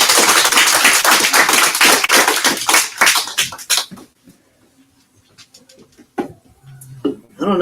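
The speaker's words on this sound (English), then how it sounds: "Everyone, please give a big round of applause." Crowd at an underground poetry event gives a burst of loud, dense applause that lasts about four seconds and then stops abruptly, followed by near-silence with a few faint scattered sounds.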